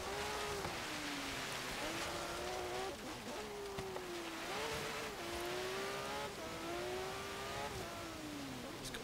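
Engine of a 2004 Porsche 911 GT3 racing in Forza Horizon 3, revving steadily through rising and falling gear sweeps over a constant rushing backdrop resembling rain, loud and continuous with no speech.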